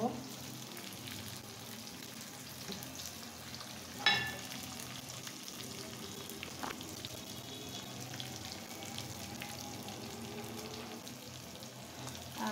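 Whole spices sizzle in hot oil in a pan as a tempering for dal and spinach, with a steady, close frying hiss and one brief sharp crackle partway through.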